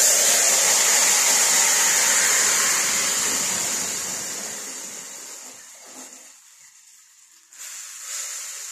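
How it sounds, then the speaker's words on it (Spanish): Beans fry in a pan with a loud, steady hissing sizzle that gradually fades and drops away, then returns more quietly near the end. "Voy a freír los frijoles."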